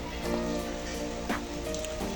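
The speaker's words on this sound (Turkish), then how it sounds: "Yağmur başladı ve benim yürümem gereken 7 kilometre var." Steady rain falling outdoors during a walk, a dense continuous hiss with occasional louder splashes and a faint tonal hum underneath, no talking.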